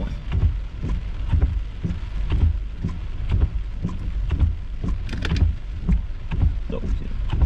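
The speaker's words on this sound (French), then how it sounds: "Une bonne petite pluie." Light rain falls during a storm chase, a steady close patter with scattered drops striking a surface, continuous throughout with no voices.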